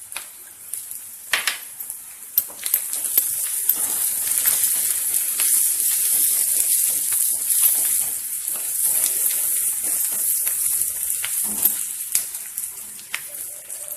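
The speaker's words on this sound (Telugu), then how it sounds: "లైట్ బ్రౌన్ కలర్ వచ్చేంత వరకు ఫ్రై చేసుకోవాలి." Onions frying in a pan for a tamarind-leaf egg curry make a close, continuous sizzle with scattered sharp crackles and pops throughout.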